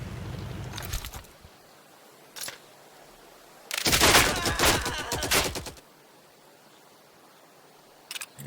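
Gunfire in the Headquarters WW2 strategy game: a few scattered single shots, then a dense burst of rapid firing lasting about two seconds, followed by quiet and a last faint shot.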